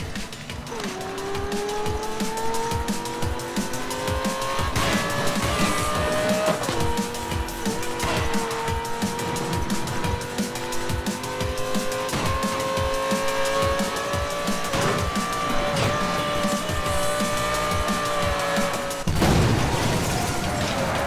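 Race cars roar through a Need for Speed Most Wanted (2012) race: engines rise steadily in pitch under loud, continuous play, with tire squeals, skids and a heavy boom near the end.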